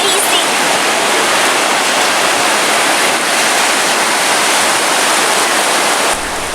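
Sea waves wash over sand at Digha beach, a loud, continuous surf roar with broad rushing hiss and some wind buffeting, steady and close throughout.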